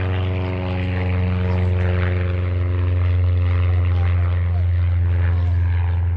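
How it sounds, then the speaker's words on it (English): Steady, loud drone of a propeller airplane engine at an airport beside the Air Zoo, with a strong low-pitched buzz and layered harmonics holding constant throughout, no pauses. "Park out there and sit here and watch the planes take off"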